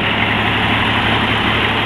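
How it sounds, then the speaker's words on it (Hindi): An old 1977 Fiat 480 tractor engine idles steadily, a low, even rumble with a constant throb and no breaks. "इस वक्त जो है ये ट्रैक्टर जो है स्टार्ट हो चुका है।"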